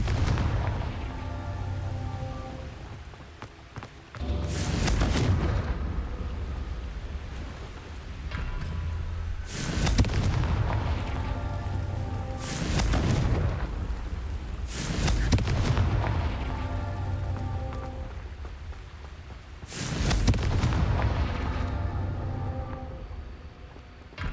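Confringo spell blasts in Hogwarts Legacy come in five separate booming bursts spaced a few seconds apart, each a loud, sharp crack with a deep rumbling decay, over quiet ambient music.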